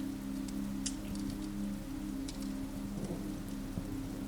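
Steady rain falling outside a bookshop with a fire nearby, a soft continuous patter with a low hum and occasional faint crackles, quiet and unbroken.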